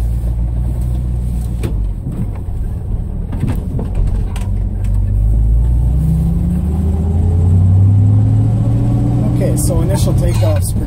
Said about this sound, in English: That's why I'm kind of firing it up and taking off.